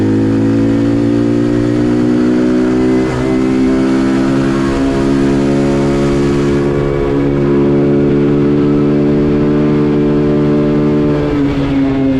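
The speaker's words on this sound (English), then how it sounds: "Okay, first gear, second gear, third gear, full throttle." A SyxMoto ATV revving hard through first, second and third gear at full throttle on a top speed run, the loud engine whine climbing in pitch, with small dips at each shift, then holding high and steady.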